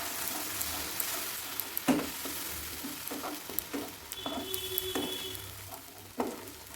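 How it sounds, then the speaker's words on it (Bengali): Spice paste of ground poppy seeds, cashews and melon seeds with Kashmiri chilli frying in oil for a Bengali cauliflower dish, a steady close sizzle broken by several sharp scrapes of a spoon stirring the pan. "ভালো করে মশলাটা একটু কষিয়ে নিচ্ছি"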